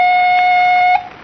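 A police alarm sound effect from a 1941 crime radio drama: a loud, steady electronic tone that holds for about a second and then cuts off abruptly, with no talk over it.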